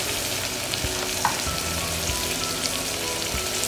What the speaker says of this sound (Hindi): स्प्राउट्स भी अच्छे फ्राई हो गए हैं